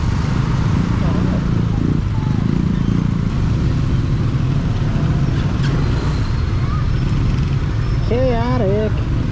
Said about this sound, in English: Here's traffic.